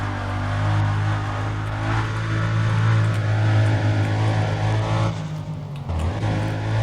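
A car engine drones loudly in the street-racing game Need for Speed: Undercover, holding a steady pitch, then climbing before briefly dropping off as the throttle eases near the end.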